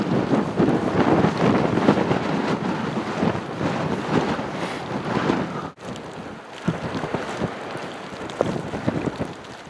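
Wind blowing outdoors: strong, steady buffeting gusts roar against the microphone, loud and continuous, dipping briefly partway through and then easing to a lower rumble.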